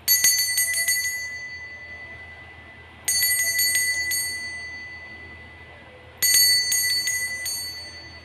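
A small bell rings three times at an even pace, a few seconds apart. Each strike gives a bright, close cluster of rapid dings that fades slowly before the next one.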